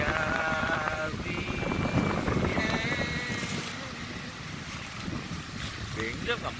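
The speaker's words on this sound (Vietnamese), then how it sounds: "Đặc sản của biển là những cơn gió rất là mát, mát tới lạnh cả người luôn" Cool sea wind blowing along the coast, a continuous rushing wind noise with some microphone buffeting, under singing and a voice speaking.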